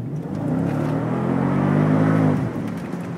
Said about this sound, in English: So we're driving, it's very quiet, it's very smooth. We're at 20 miles an hour right now.